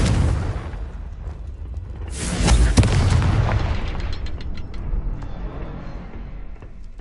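A Confringo blasting spell explodes in Hogwarts Legacy, a deep booming burst swelling midway through, then rumbling and fading under lingering crackles in the game's ambience.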